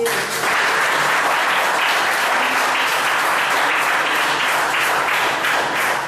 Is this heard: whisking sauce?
no